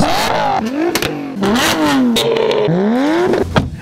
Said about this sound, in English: performance cars should sound more like this